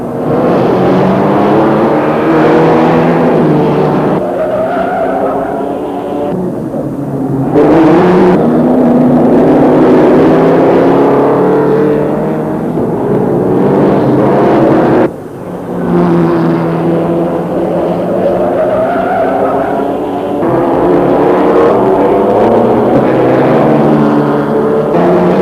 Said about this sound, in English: When the cars roar past on the banking and the going is fast and furious, Brooklands provides its greatest thrill.